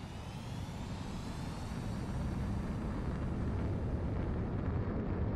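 A fighter jet taking off in Ace Combat 7, a steady loud engine roar that builds slightly in strength and holds throughout, alone with no speech.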